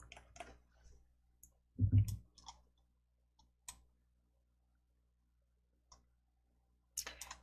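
Sparse, quiet computer mouse clicks during PowerPoint practice, single sharp ticks scattered over several seconds with a louder thump near the middle and quiet gaps between.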